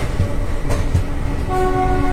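The Azad Hind Superfast Express rumbles and clatters loudly and close into Bilaspur Junction station, its horn sounding steadily toward the end.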